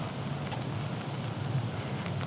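Rain and wind during typhoon Pepito in a neighborhood make a constant, dense rushing hiss with low rumbling gusts, steady throughout and without speech.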